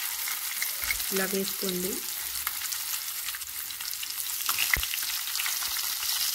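Fish pieces frying in oil in a kadai give a steady, close sizzle throughout, with a brief voice near the start speaking over the crackling.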